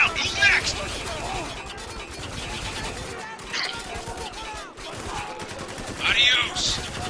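Gunfire in the war shooter Spec Ops: The Line rattles in bursts across a busy battle mix, with a few sharper peaks standing out and shouted voices over the fighting.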